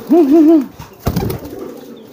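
A domestic pigeon in giring courtship training gives a loud close warbling coo, followed by a short burst of wing flaps and fainter rustling.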